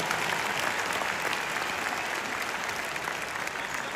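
A big arena audience at an anniversary concert in Prague's O2 Arena claps continuously, a thick, even roar of hands that holds steady throughout at moderate loudness.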